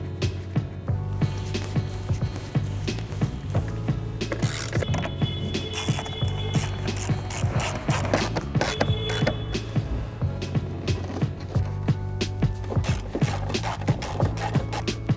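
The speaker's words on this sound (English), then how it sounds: "Now reinstall your 4 10mm bolts," A ratchet drives 10mm bolts securing a headlight on a 2017-2018 Ford F-250, a run of quick, close clicking and ratcheting bursts with mechanical rattles and brief pauses between them.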